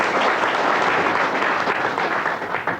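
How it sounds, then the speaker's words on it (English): Sustained audience applause at a village show or gathering, broad steady clapping from a crowd that continues loudly throughout with no voices standing out. "It's Larry Mitchell, applause for her."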